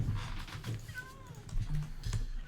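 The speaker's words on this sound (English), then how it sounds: "I hear the kitties." Cats meow in a Minecraft game: a few short, high cries over a steady low background, with some faint talk mixed in.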